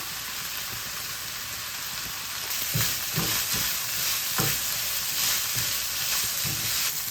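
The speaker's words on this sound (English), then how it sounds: "Now you want to continue cooking this for a further 10 to 15 minutes until your lamb mince is fully cooked through" Lamb mince seasoned with dried coriander, paprika, chili powder and oregano fries in a pan, giving a steady, dense sizzle with occasional stirring scrapes, close and continuous with no talking.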